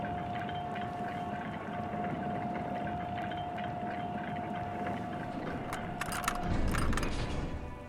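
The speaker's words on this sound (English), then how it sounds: "As soon as the metal connects against the contact pins, you hear a loud clunk. Then, the water lock starts moving." Rusty water lock mechanism in Disco Elysium grinding into motion, a steady mechanical hum and creaking clatter with a loud clunking surge near the end.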